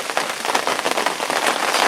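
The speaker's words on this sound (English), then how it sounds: "the rain is just starting to come down" Rain begins falling at a fishing lake, a dense, steady patter of drops on surfaces, close and fairly loud, with no voices.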